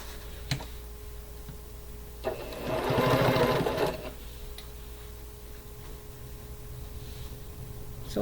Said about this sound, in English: we're going to sew a 1/4 inch down that seam